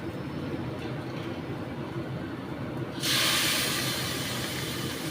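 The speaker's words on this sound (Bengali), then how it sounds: "একটু ডালের জল দিয়ে দিচ্ছি।" Dal water poured into a hot pan of potatoes and spices bursts into a loud, close sizzle partway through, following a quieter low crackle of frying.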